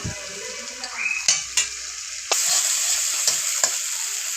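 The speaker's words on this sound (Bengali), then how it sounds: "সব কিছু এইভাবে ভালো করে মিশিয়ে নেব এবং খুদ্রির সাহায্যে কিছুক্ষণ নাড়তে থাকবো" Ginger paste and garlic paste fry in hot oil for a spicy tilapia curry, a sharp sizzle with a few distinct scrapes and clinks of a spatula against the pan, close and brief.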